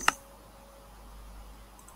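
A single sharp computer mouse click right at the start, launching Minecraft for Nintendo 3DS in a Windows emulator, followed by quiet room hum.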